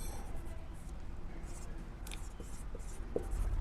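Soft scratching and rubbing of writing on a board during a grammar lesson, with faint intermittent strokes beneath steady low background noise.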